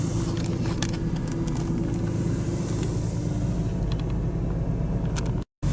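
A BMW M Coupe with the S54 engine drives at dusk in December. It gives a steady, droning engine and road rumble from inside the cabin, with a brief dropout near the end.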